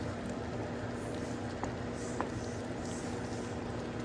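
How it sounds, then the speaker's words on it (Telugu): Prawn curry with tomatoes simmers under a lid in a pot, a quiet, steady bubbling hiss with faint soft pops and no talking. "ఇప్పుడు ఒక 5 to 6 మినిట్స్ ఉడకనిద్దాము మూత పెట్టేసి"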